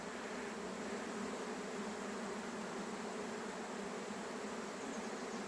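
Dense, steady buzzing of many honeybees at a hive entrance fitted with a queen excluder, a continuous close insect drone with no pauses and no talking.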